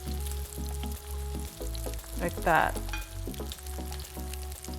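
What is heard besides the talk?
seafood pancake batter poured into a pan, sizzling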